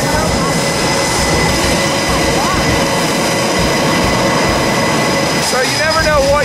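F-18 fighter jets prepare to take off nearby, a broad continuous roar of jet engines and rushing noise filling the air, with people talking over it.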